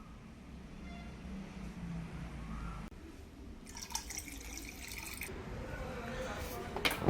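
Water poured into a container holding river-caught fish, splashing and gurgling bursts in the second half over a low background hum, moderately close, with some quiet background voice.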